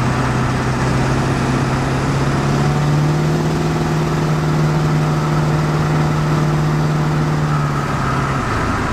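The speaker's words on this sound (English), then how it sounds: "It's gonna sound a little funky because the exhaust is right underneath the cab falling off." A wrecked 7.3 Powerstroke truck cruising at speed with its exhaust hanging loose under the cab, a steady loud droning engine hum with a low buzzing tone and constant road roar throughout.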